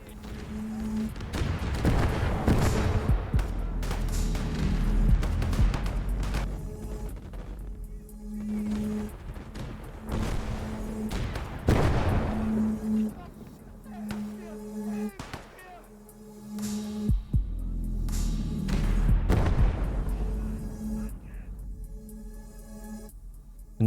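German 7.5cm le.IG 18 and Soviet 76mm M1927 infantry guns firing in a video game, with repeated heavy booms and rumbling impacts spread across the stretch, mixed with battle noise and intermittent voices.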